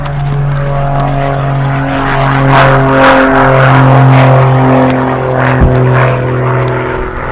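A propeller aerobatic airplane, bought from a French flying club, drones loudly and close at an aerobatic competition, its engine pitch rising and falling as it maneuvers overhead.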